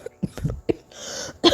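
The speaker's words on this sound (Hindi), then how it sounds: "तो इस तरह से ना ज़ोर ज़ोर से खांस रही होती है" Several sharp coughing bursts, close and forceful, separated by short gaps, ending with a louder harsh cough.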